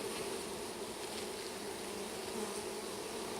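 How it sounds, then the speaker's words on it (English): Swarms of honeybees fly around a hive during a package installation, producing a constant, even hum that stays low and steady throughout. "that looks like a lot of bees flying around here"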